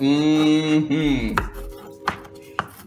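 Knife chopping an onion on a board during home cooking of an eggplant pizza, a few sharp separate cuts heard close up after a sustained tonal sound fades out.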